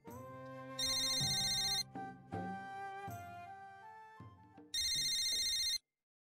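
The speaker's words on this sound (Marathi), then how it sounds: "शिरीचा फोन" A mobile phone ringtone chimes in two loud, bright bursts about three seconds apart, with background music from a Marathi TV serial playing between and under them.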